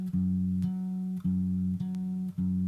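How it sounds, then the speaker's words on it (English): Clean sustained tones sound in short successive notes, a pitch and the same pitch an octave higher, with brief gaps between them. "That's this note and this note an octave higher, same note."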